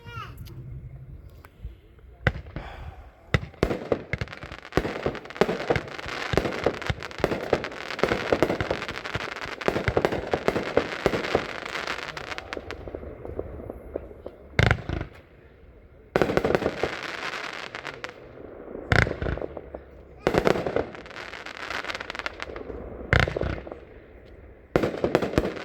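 A Midnight Rider 31-shot firework cake fires a long volley of loud, sharp bursts that repeat in quick succession with short gaps and crackle in the air, and voices are faintly heard around it.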